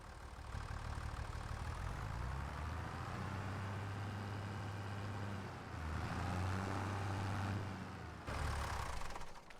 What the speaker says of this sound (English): let's move the tractor out of the way.